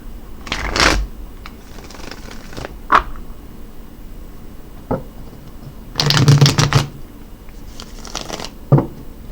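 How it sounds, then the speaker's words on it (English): Crystal Vision Tarot cards being shuffled by hand in several short riffling bursts separated by quiet pauses, close and crisp, with a few soft taps of the deck between shuffles. "let's go ahead and shuffle up the Crystal Vision Tarot for you,"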